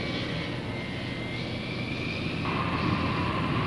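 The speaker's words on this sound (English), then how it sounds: "provide more runways to launch aircraft in a shorter period of time" Military aircraft take off from a dispersal base, a steady, continuous jet engine roar held at a distance, swelling slightly toward the end with no voices.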